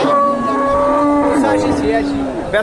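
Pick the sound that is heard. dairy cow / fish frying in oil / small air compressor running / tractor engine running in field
dairy cow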